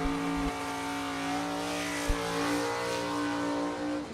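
Bracket drag racing at the U.S. Bracket Nationals, an Olds 442 and a 1991 Chevrolet Camaro running side by side, heard as a sustained droning engine tone with rising harmonics, fairly distant and steady across the pass.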